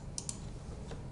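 A few sharp computer mouse clicks spaced unevenly over a steady low hum while options are selected in a parts search, close and fairly quiet.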